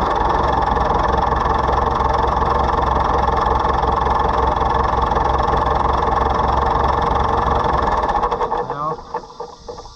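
Oliver 1365 tractor engine, low on hydraulic fluid, runs as a loud continuous steady drone for most of the clip, then falters and fades near the end, with people talking over it.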